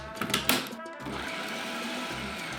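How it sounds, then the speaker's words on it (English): A small blender purees ginger, garlic and onion into a fine paste for beef rendang. A few brief clatters come first, then a loud, steady motor whir runs close by without a break. "Try to use a small blender or a mini processor."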